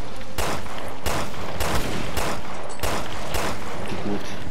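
Rapid bursts of gunfire from the co-op survival horror game Resident Evil Revelations 2 crack loudly and repeatedly, about six sharp volleys in quick succession, with faint voices in the background.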